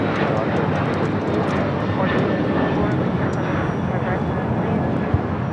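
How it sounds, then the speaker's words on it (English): Sun Country Airlines jet arriving from Minneapolis, landing at LAX: a loud, steady engine roar close by, broad and continuous, with a voice talking over it throughout. "This is Sun Country Airlines 425 coming in from Minneapolis."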